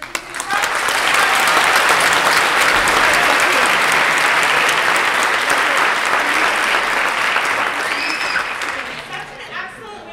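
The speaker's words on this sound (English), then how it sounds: "Can we have one more round of applause for the hard work of our musicians?" A school concert audience gives the musicians a round of applause, a sustained, full burst of clapping from a large crowd that swells, holds steady, then tapers off near the end.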